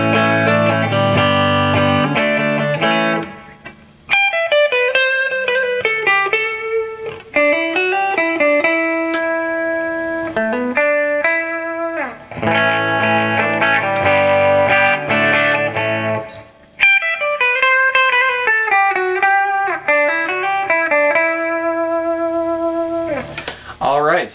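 Electric guitar played through an Acoustic Control Corp amp with an MXR Micro Amp clean boost and reverb, ringing chords and melodic runs, loud and close with a few brief pauses.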